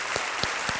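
Studio audience on a televised quiz show claps steadily to welcome a contestant, a dense even wash of applause with a few sharper claps standing out.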